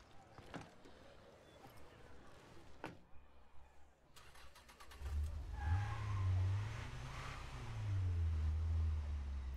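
A car engine starting in the video game State of Decay 2, a short crank then a steady low idle that rises and settles, quiet and close, after scattered clicks and thuds of game action.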